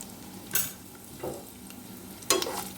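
Garlic cloves frying in a pan with salt and turmeric for a milk-based garlic curry, heard as a low steady sizzle broken by three short scraping stirs.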